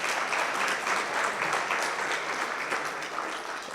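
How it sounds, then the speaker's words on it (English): Dense, sustained applause from a convention audience at an actuarial society's annual gathering, many hands clapping together and fading slightly toward the end. "Let's clap hands"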